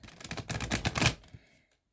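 Tarot cards shuffled by hand in a quick, dense run of papery riffles and slaps lasting about a second and a half, then fading out to silence.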